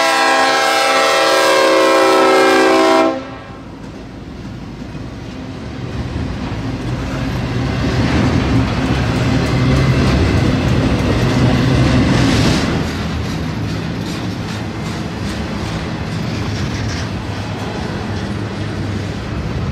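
CSX freight transfer job Y-108 hauling intermodal traffic from Duval Ramp into Moncrief Yard sounds a loud horn blast, then rolls past with a heavy, steady rumble and rattle of cars lasting alone for many seconds.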